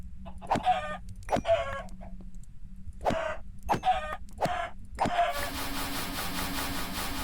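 Several sharp chicken clucks and squawks from a video game come in quick succession, followed by a steady hiss of background noise at the end.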